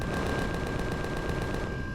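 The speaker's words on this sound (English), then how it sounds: "These Gatling guns are nice, but man, like they eat up a lot of ammo quickly, but they kill things quick too." Gatling guns in Empyrion Galactic Survival fire in a steady, rapid, continuous stream of shots, loud and close, with a thin constant tone running underneath and no talking.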